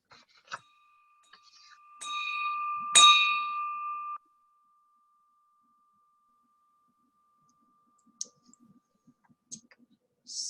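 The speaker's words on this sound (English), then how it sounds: "Please ring the bell for Selma." A hand bell rung by a participant during an online Rotary meeting, giving a few bright, ringing strokes with a sustained tone that fades, then faint scattered clicks and small sounds afterward.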